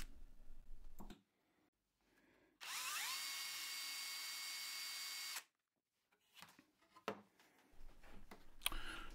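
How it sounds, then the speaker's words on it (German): A power drill boring two small 3 mm holes into a wooden Christmas decoration: one steady whirring run of about three seconds between quieter handling clicks and knocks, close and alone. "Oberhalb der beiden 40er Bohrungen kommen jetzt noch zwei kleine 3 mm Bohrungen."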